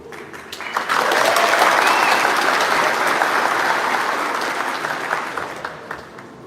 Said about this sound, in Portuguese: Você pode aplaudir mais uma vez a Jesus?